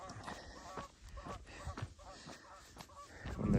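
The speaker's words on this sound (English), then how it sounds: "See, there's some Canadian geese right there." Canada geese call with repeated honks from a field beside a trail, somewhat distant and faint, heard during a morning trail run over steady outdoor background noise.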